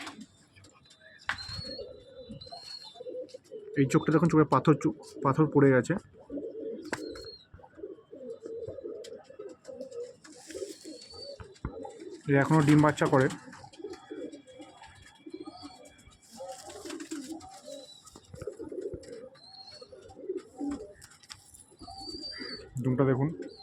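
An old breeding pigeon with a clouded eye coos in two separate bouts, each a few rolling calls up close, while someone talks steadily throughout.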